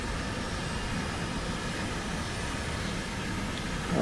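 Eurocopter Tiger helicopter engine running in the SecondLife video game, a steady dense turbine roar and rumble that holds level throughout, swelling slightly at the end.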